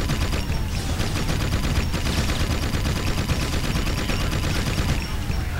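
Dense, continuous rapid-fire gunfire from the Vulcan Fury, a heavy automatic gun in the video game Jak 2, blazing loudly and steadily without a break for several seconds.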